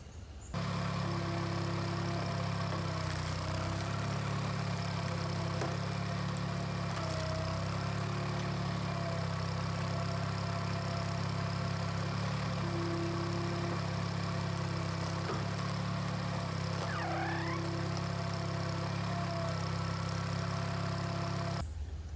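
A 1950s wood splitter engine idles steadily and loudly nearby, a constant low rumble with a mechanical drone holding unchanged throughout.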